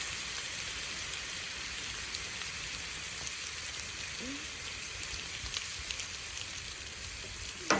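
Shrimp fried rice ingredients searing on a Camp Chef FTG600 flat top griddle at about 375 degrees, giving a continuous even sizzle with occasional faint clicks and taps.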